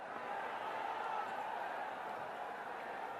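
A cricket crowd at Sylhet International Stadium fills the air with a steady, distant, even roar of murmuring voices, with no distinct cheers standing out.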